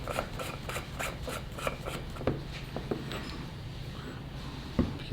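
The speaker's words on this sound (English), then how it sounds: "this thing just screws right in the front" A metal scope assembly is screwed into the front of a DL44 blaster replica, making soft close scraping and rubbing with a few faint thread clicks and a sharper tap near the end.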